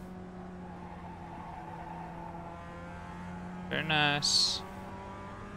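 A race car pulling out of the pits at Okayama in a racing sim: a steady, moderately loud engine drone with a brief rising rev and tire squeal near the end, and a voice talking briefly.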